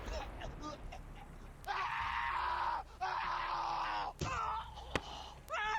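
A person screams in several drawn-out, strained bursts with a brief pause between them, amid speech and crowd noise at a fight night event.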